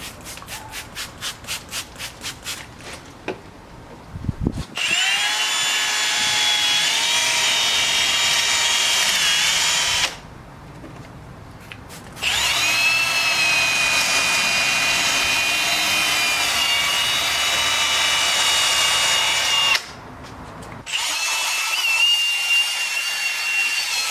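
A soft 3000-grit sanding pad from a 3M headlight restoration kit spins against a car headlight lens, giving a steady loud buzzing rub in three long passes split by short pauses, close and with no talk.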